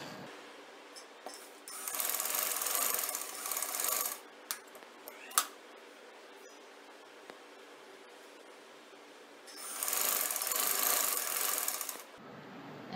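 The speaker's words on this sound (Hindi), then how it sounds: "मैंने यहाँ से 1/2 इंच मोड़ा है और इस तरह सिलाई लगाने लगी है।" A sewing machine stitching a half-inch folded fabric edge on a shirt, running in two bursts of rapid whirring with a quieter pause of small taps and handling sounds between them.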